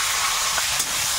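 Panch phoron, bay leaf and chopped onion fry in hot oil in a kadai, a steady close sizzle with a faint stir partway through.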